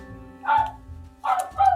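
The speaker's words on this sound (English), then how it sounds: "excuse the dog barking" A dog barks in two short bursts with a pause between, fairly close and clear indoors during a quiet family evening at home.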